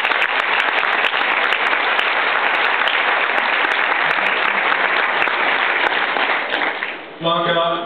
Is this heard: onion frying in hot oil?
no